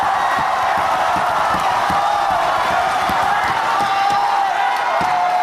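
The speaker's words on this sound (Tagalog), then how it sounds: "yung crowd ni Mot yan noon nung panahon na yun" Crowd at a Mhot rap battle cheering and roaring, a continuous loud wash of voices with scattered sharp claps and thumps, heard from within the audience.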